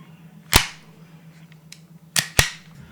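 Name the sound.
gunshot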